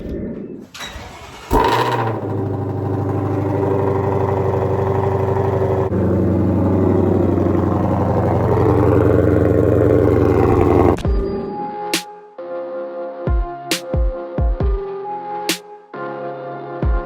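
A C8 Corvette engine cold-starts with a sharp crank and loud flare, then settles into a steady, deep, rumbling high idle for several seconds before cutting off, followed by scattered clicks and knocks.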